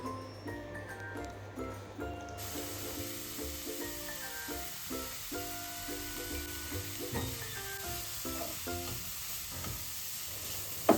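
Chopped cabbage and capsicum with grated carrot and kohlrabi fry in a pan, a steady close sizzle under intermittent scraping and stirring knocks, with faint background music and no one speaking.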